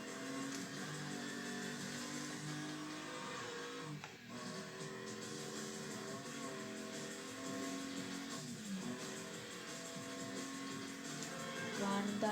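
A nearly stock car's engine in the racing game Need for Speed Undercover on Wii drones steadily throughout, with a brief dip partway and a rise in intensity near the end.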